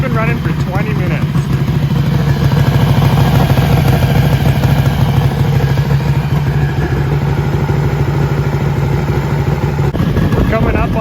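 A motorcycle engine warming up, running for about twenty minutes: a steady, loud, close idle with a constant low throbbing and mechanical clatter, holding an even level throughout.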